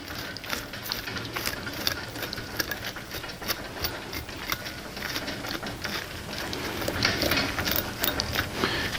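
A rake scrapes dead foliage out of a Foemina juniper, giving a continuous close rustle with rapid scratchy, ratchet-like clicks that grow slightly louder toward the end.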